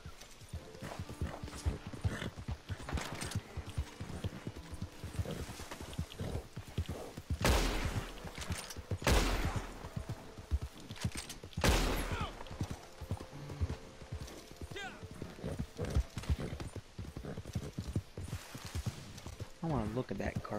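Horse hooves clip-clop steadily through a Red Dead Redemption 2 game scene, a continuous rhythmic trot under frequent player chatter, with a few loud bursts like gunfire.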